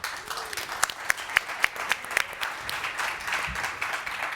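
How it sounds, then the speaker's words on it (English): An audience at a beverage industry live event applauds finalists walking on stage, with dense clapping plus a few louder nearby claps that fade toward the end, as in a large room. "Round of applause."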